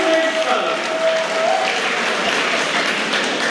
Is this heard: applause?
yes